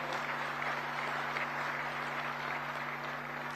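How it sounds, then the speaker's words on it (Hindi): An audience claps during a political speech, a steady, even wash of applause heard at moderate distance with a constant electrical hum beneath it. "आपको फिर से ताली बजानी पड़ेगी।"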